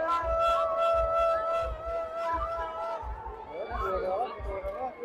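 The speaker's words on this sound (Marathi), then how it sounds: "आता आपण जत्रेत आहोत मस्त आणि फुल गर्दी आहे एकदम" Fair crowd at a Hanuman Jayanti village festival, with a steady murmur of voices mixed with DJ music and a pounding regular bass beat, loud and continuous throughout.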